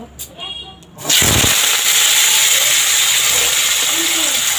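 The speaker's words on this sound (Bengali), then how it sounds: "আলু ভাজছি।" Potatoes frying in a wok, a loud steady hiss and crackle bursting in after a second of quieter sound and continuing unbroken to the end.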